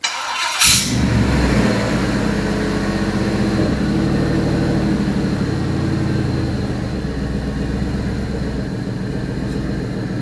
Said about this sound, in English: we're going to fire this thing up. Here we go.